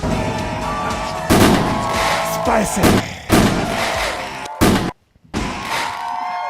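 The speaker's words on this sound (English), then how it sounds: "I got the fireworks." Fireworks effects burst in a series of loud booms and cracks. A person talks briefly between them, and the sound drops out for a moment before resuming.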